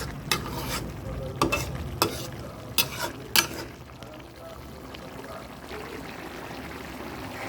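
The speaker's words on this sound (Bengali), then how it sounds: "নেড়ে সুন্দর করে উল্টিয়ে নেব।" Small fish coated with a spice paste fry among vegetables in a pan, with a soft sizzle under several sharp scrapes and clacks of a spatula as they are gently stirred and flipped, quieter toward the end.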